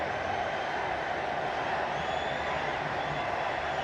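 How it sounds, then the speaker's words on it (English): A football stadium crowd at the SAFF Championship final roars as Sunil Chhetri is introduced, a broad, steady wash of distant cheering and noise that runs unbroken from start to finish. "Chetri, the crowd up on its feet."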